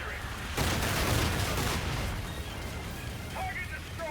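A weapon fires at a marked target in Call of Duty Infinite Warfare, a heavy booming blast that erupts suddenly and rumbles on, fading into a lingering roar.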